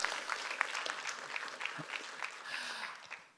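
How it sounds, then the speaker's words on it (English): Audience applause at a Star Wars Q&A event with voice actors, a steady wash of clapping from a crowd that holds evenly and tapers near the end, with faint voices underneath. "let's give them a quick round of applause"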